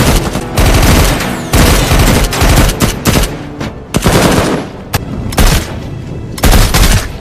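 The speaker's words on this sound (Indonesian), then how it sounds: "Terjadilah adu tembakan yang cukup intens" Bursts of heavy automatic gunfire and rapid shots trade back and forth in an intense firefight, loud and close, with brief gaps between volleys.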